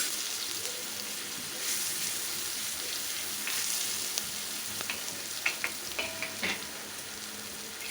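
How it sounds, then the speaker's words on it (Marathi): Cluster beans (guar) sauté in hot oil in a home kitchen pan, giving a steady, soft, continuous sizzle with a few light scrapes and clicks as they are stirred. The sounds are close but quiet, with no talking over them. "गवार छान अशी परतली गेलेली आहे"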